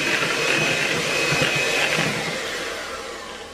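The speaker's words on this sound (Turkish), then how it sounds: "Çok az biraz daha çırpıyorum." Vanilla crème caramel cake batter being whisked in a bowl, a steady, continuous whirring and scraping that holds at an even, fairly loud level before easing off slightly at the end, with no voices.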